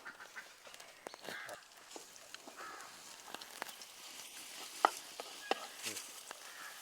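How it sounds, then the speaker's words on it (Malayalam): Beaten eggs sizzle and are stirred in a hot frying pan while cooking into soft curds for Kerala-style mutta chikkiyathu. A quiet, steady crackle runs throughout, with a few sharp scrapes and taps from the spatula. "നമ്മുടെ മുട്ട ഒന്ന് അടി ചെറുതായിട്ട് കട്ടി വരുമ്പോഴത്തേക്ക് നമുക്കൊന്ന് ചിക്കി കൊടുക്കാം"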